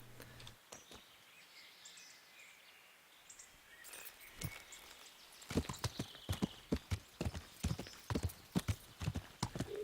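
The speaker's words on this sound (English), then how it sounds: "Let's mount up and ride a bit longer." Horse hooves clip-clop in a steady trotting rhythm as a mount is ridden in the video game Kingdom, growing louder and more regular after a quieter stretch with faint birdsong and ambience.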